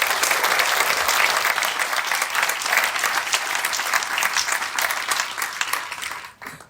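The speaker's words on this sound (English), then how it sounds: "a round of applause to tonight's recipients and to all of you." An audience at a community awards evening applauds the award recipients with steady, dense clapping from a large room that carries on for several seconds and then fades out at the end.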